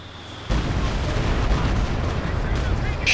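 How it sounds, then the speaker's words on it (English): Stuka dive bomber firing in the video game Company of Heroes 2: after a quieter half-second, a loud, dense, continuous roar of gunfire and explosive blasts fills the rest of the clip. "Stuka's firing again"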